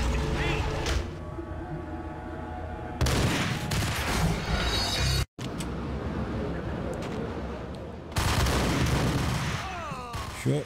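Shotgun blasts and other gunfire crack out during a firefight in the PC game Max Payne, arriving as dense bursts of loud booms.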